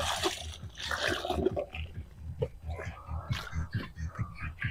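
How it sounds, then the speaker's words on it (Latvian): Water poured from a container onto granite gravel and soil packed around a solar panel mounting post, a loose splashing trickle lasting a few seconds with faint handling noises. "paņemam, lejam ūdeni"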